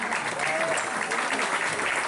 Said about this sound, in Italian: Facciamo ancora un applauso a Francesca, bravissima.